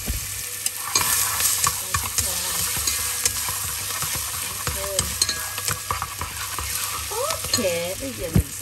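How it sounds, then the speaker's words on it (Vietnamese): Steady sizzling of minced garlic and shallots frying in a hot pan, with occasional stirring scrapes and pops throughout, no talking. "Đây là tỏi và hành tím mình đã băm, mình cho xíu vô"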